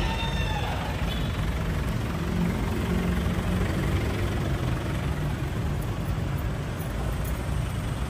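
The 2.5 turbo diesel engine of a used SUV runs at idle, a steady low rumble with a constant broadband hum, close and continuous with no speech.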